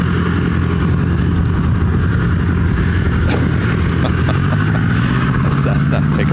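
A Cessna aircraft taking off from runway 26 right produces a distant engine drone, with a person talking over it for most of the stretch.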